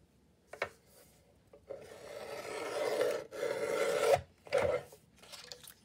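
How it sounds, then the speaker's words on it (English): Paper cutter trimming a 12 by 12 sheet of paper: a few quiet, rasping blade strokes in short bursts, close up and alone. "I'm going to bring my cutter up. See, it's 12 by 12. I'm going to bring it to the 11 here."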